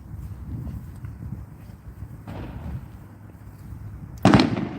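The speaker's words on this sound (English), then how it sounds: "Fireworks. I couldn't catch that on camera." Distant fireworks thump and crackle over a low rumble, with one louder sharp bang near the end.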